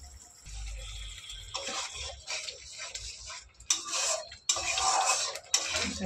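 Water-mixed liquid poured into a hot pan of frying tomato and onion masala, quiet low rumbling first, then several loud bursts of hissing, splashing sizzle, close and without talk.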